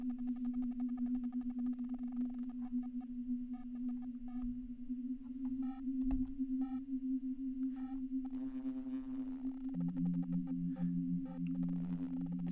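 An Arturia MicroFreak synthesizer holds a steady tonal drone while its cycling envelope modulates the sound, adding repeating blips and a sweeping, chirping burst partway through before the pitch shifts lower.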